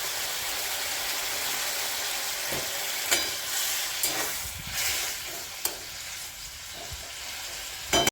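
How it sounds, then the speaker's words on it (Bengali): A spoon works potato and tomato into a bubbling vegetarian potato and chickpea curry, giving a steady sizzle and hiss with a few soft knocks and scrapes against the pan, close by and without talk. "এটা আমি একটু আলুটা ম্যাশ করে নিলাম, এটা একটু টমেটোটা ম্যাশ করে"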